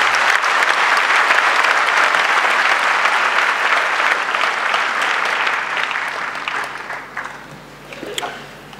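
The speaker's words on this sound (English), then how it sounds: "can you give James Mwangi a good clap?" A large audience applauds James Mwangi, dense sustained clapping that fills the hall loudly, then gradually thins and fades over the last seconds to a few scattered claps.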